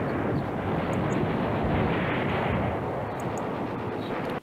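Gunfire from the wargame Command Ops 2, during a Manhay Crossroads battle, makes a dense, continuous roar of shooting that holds at an even level throughout with no talking.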